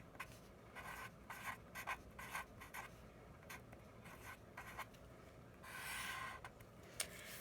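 A hand writes a label on a graph, producing soft, close scratching strokes in short irregular bursts with brief pauses, ending in a longer rubbing stroke; no talking.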